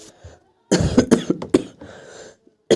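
A man coughs close to the microphone in a burst of several harsh coughs, followed by a brief throat-clearing tail and a short final cough at the end.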